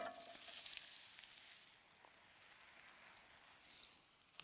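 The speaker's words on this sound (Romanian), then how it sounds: "În tigaie pun cartofii." Potatoes frying in olive oil in a pan give a steady, faint, close sizzle with a soft hiss and crackle, with no talking over it.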